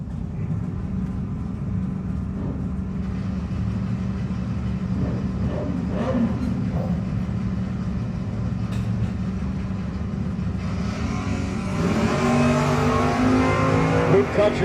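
A pair of Camaro drag race cars roar down the strip at a no-box 660 drag racing shootout, a sustained loud engine drone that swells near the end, with an announcer talking over it.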